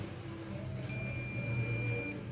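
Continuity beep from a digital multimeter checking an Epson L series printer fuse: a thin, steady high electronic tone sounds for over a second, faint and close, over low background hum.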